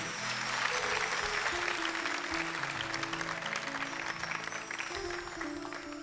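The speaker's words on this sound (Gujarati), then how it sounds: "એ બદલ દૂરદર્શન એકવાર જોરદાર તાળીના ગડગડાટથી આપણે વધાવીએ" A large audience breaks into sustained, thunderous applause at a Gujarati dayro folk performance, the clapping dense and continuous over a faint tonal hum from the stage.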